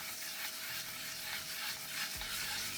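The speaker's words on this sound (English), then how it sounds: "as I'm working the rim there, I just move the sandpaper back and forth" Sandpaper is moved back and forth against the rim of a wooden bowl spinning at low speed on a lathe during wet sanding, giving a soft, continuous, even rubbing hiss over a faint steady motor hum.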